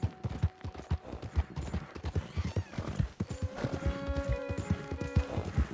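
Hooves clip-clop in a quick, steady galloping rhythm from a horse in the Red Dead video game, close and prominent, joined by sustained music tones in the second half.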